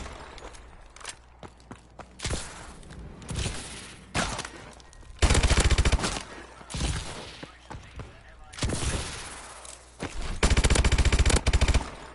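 Shotgun blasts in the Exo Survival mode of a first-person shooter, heavy sharp shots fired in irregular bursts with some rapid clusters, mixed with footsteps and game noise.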